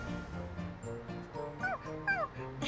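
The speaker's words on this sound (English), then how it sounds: "What a nice puppy you are." A puppy whimpers and yips in short, high, wavering cries, several rising-and-falling whines close by over a soft steady background hum.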